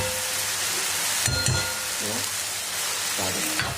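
Chigali leaf vegetable cooks in a pan over a medium gas flame, giving a continuous close sizzle and hiss with a few brief scrapes and clinks of a spoon stirring.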